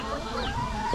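Native chickens cluck at a farm, a brief burst of close, loud clucking set against dense background noise.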